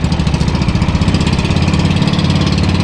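Two engines on a squid-fishing boat run together in a loud, close, steady throbbing drone with a fast, even pulse and no talk.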